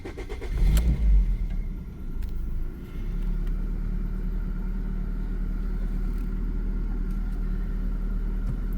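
A car engine catches with a sharp burst, revs briefly, then settles into a steady low idle rumble that dips and stutters slightly when throttle is applied.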